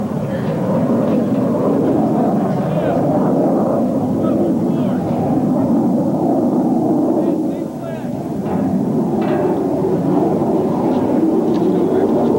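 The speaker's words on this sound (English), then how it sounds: "We hear the aircraft coming to Qasr now" Military aircraft fly overhead during wartime in Iraq, a broad continuous rumble and roar that holds steady for several seconds, with faint voices in the background.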